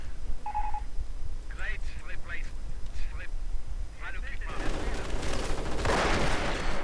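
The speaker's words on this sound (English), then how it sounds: "more assault grenadiers coming under fire from the light machine gun troops" Light machine gun fire in the EF Mod strategy game: scattered bursts early on, then a dense, loud barrage of gunfire and explosions filling the second half, with a voice talking over it.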